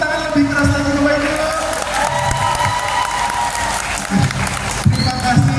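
Loud, steady clapping from a talk show crowd at a TPN 2024 event in Jakarta, with scattered cheers, whoops and raised voices rising above the dense applause throughout.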